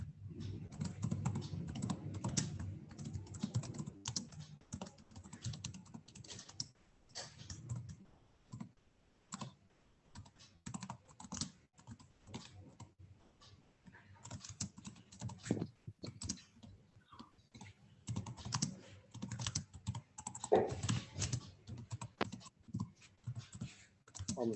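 Keys clack on a computer keyboard in quick irregular bursts with short pauses, fairly faint and close, with no speech.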